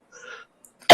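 A person coughs once, a short close burst after choking on saliva, following a stretch of quieter throat sounds and breathing.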